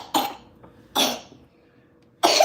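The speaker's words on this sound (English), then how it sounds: "does this fake cough" A pet named Gizmo gives a fake cough, three short raspy bursts spaced across a couple of seconds, close and fairly loud in a quiet room.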